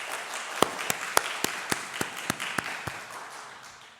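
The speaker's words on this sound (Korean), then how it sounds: "김 목사님 환영의 마음을 담아서 한번 박수 한번 보내드렸으면 좋겠습니다" A church congregation claps for a visiting pastor at a Sunday worship service: about a dozen sharp, evenly spaced claps in a steady rhythm, moderately distant in a reverberant hall, fading slightly toward the end.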